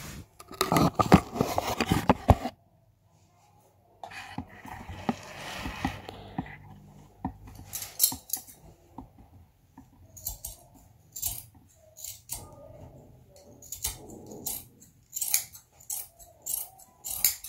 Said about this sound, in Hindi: अब मैं नॉर्मली ये जो ब्लैक वाला पार्ट आ रहा है इस सारे को रिमूव कर दूंगी कटिंग के मदद से यहाँ से इक्वली कट करेंगे